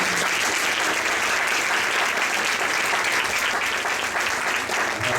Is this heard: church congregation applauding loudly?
yes